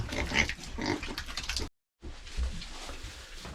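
Pigs grunt and oink steadily while eating cut beetroot, with wet chewing close by. The feeding noise runs almost continuously, broken only by a brief silent gap partway through.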